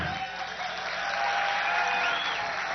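Game show studio audience of men applauding in a steady, dense burst of clapping that stays loud and even throughout, with no one speaking over it.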